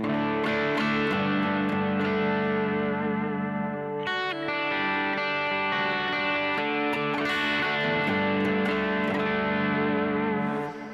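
A purple electric guitar played through a Kemper Stage profile, sustained distorted chords with chorus and echo effects, loud and close, with a chord change about four seconds in and no talking.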